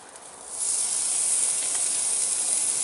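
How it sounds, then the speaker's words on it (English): Loud, steady hiss of seasoned steaks sizzling on a hot grill, rising after a quieter start and holding constant, close up with no talking. "You can hear that nice sizzle."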